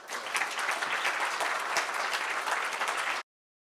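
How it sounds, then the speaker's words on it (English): Audience at the Brussels Indo-Pacific Forum 2022 gives a warm round of applause, a dense steady clapping from many hands for about three seconds before cutting off abruptly. "you all deserve a very, very warm round of applause"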